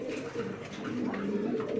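Pet koka pigeons coo steadily at a breeder's loft, a continuous overlapping low cooing from several birds held close over faint background noise.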